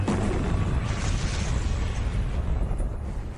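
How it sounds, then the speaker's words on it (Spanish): A volcano erupting with an explosive blast of lava and gas sends out a loud, continuous, broadband roar. It holds steady for several seconds with a dense low rumble throughout and no voices. "La lava sale a la superficie y entra en erupción con una explosión"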